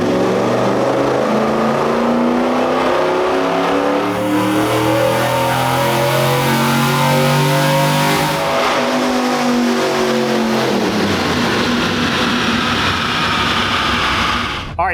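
A built 289 V8 in a 1965 K-Code Mustang pulls hard on a dyno, loud and close, the engine note climbing steadily through a long wide-open run before dropping off at the end.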